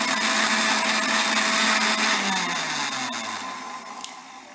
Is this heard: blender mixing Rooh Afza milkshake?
yes